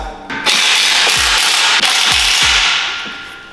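Squat rack bolts on an incline squat rack being tightened with a ratchet, giving loud, dense metallic clicking and grinding with a few sharp low knocks, sustained across the whole span without talk.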